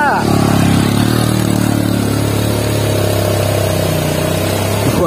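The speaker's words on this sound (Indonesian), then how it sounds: "bawa motor ini jalan ke sana ke puncak itu sangat lumayan terjal menanjak" A motorcycle climbs a steep path toward a clifftop, its engine droning loud and steady close to the rider with a low sustained pitch throughout.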